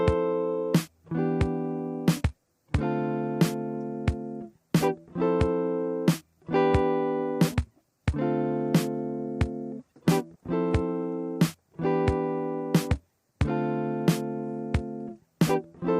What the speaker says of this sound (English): So I'll go to our clean guitar part